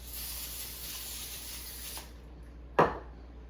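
Cooking spray hisses steadily from a can onto a sheet of aluminum foil for about two seconds, followed by a short, sharp crinkle of the foil.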